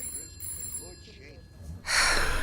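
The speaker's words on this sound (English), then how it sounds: "The phone rang from the other room." A telephone rings in another room during an acted dramatization, a bright ringing burst arriving near the end after quieter background sounds, with a voice heard faintly earlier.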